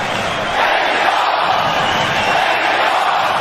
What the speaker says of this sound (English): There is no question about this crowd being into this fight.